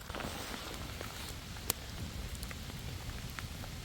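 Steady rain patters at a campsite near a campfire, a soft continuous hiss with scattered sharper drops and one brief tap, fairly faint and without voices.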